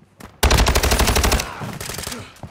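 Call of Duty Modern Warfare II automatic gunfire, a loud rapid burst of shots lasting about a second with an echoing tail and a few quieter pops after.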